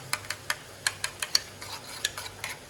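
A utensil stirs a cheese sauce seasoned with salt and pepper for homemade tacos. It makes light, rhythmic clicks and taps against the pan, close and fairly quiet.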